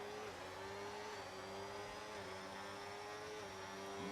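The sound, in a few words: F1 race cars' engines in F1 video game race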